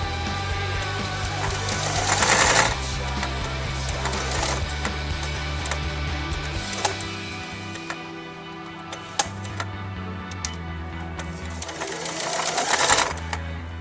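A sewing machine stitches a skirt seam and backtacks at the end, its steady mechanical whir and rapid needle ticking running for long spells, easing briefly mid-seam and picking up again, close and fairly loud.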